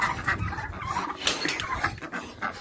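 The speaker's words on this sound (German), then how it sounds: "Jetzt haben wir Hühner, drei Hühner draußen." Three chickens outdoors in Egypt giving brief, close clucks and squawks in short irregular bursts, mixed with rustling and other yard noise.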